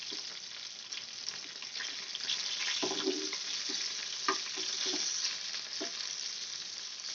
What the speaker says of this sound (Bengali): আস্তে করে আমি সবগুলো উল্টে নেব, নিয়ে ওই পিঠটাও আমি ভেজে নেব।